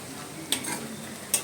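Onion frying in a pan for a green chicken dish, a steady low sizzle broken by two sharp clinks of a utensil stirring against the metal.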